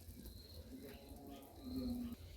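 Chickens cluck softly and intermittently while feeding on scraps of injera. A few low, drawn-out calls sit over a quiet outdoor background and rise slightly toward the end.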